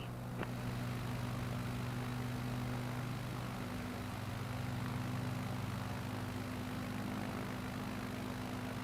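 An aircraft engine in Microsoft Flight Simulator 2024 holds a steady, faint droning hum as the plane takes off, continuous and unchanging throughout.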